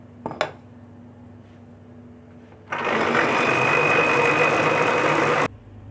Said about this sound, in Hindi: ये बस चावलों को हम ग्राइंड कर रहे हैं, ये देखें।